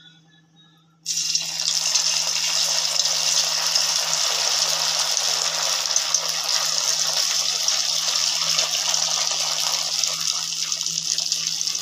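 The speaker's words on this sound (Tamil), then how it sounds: "சூடான எண்ணெயில் இந்த இட்லியை போட்டு பொரிக்கணும்." Idli cubes drop into hot oil for deep frying, and a steady, loud, close sizzling hiss starts suddenly and continues without a break.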